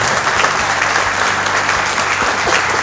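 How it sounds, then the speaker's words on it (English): Audience applause for a group of Vietnam veterans, a steady, dense clapping crowd sustained evenly throughout at close range, with no talk over it. "So a round of applause for these guys."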